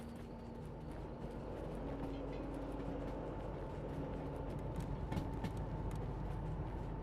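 A train rolls by in the train simulation game Derail Valley, producing a steady, continuous low rumble with rattling and faint clanks throughout, fairly close and unbroken by talk.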